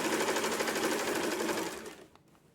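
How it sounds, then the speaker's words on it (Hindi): Sewing machine stitching a round piece with the motor pressed very slowly, a dense steady whirring hum for about two seconds that then winds down and stops. "मोटर को बहुत धीरे धीरे प्रेस करेंगे"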